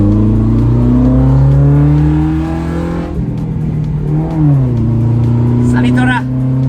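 A Nissan Sunny pickup truck engine revs up and settles back, its steady droning tone rising and falling in pitch. The sound is close and loud, with the engine running continuously throughout.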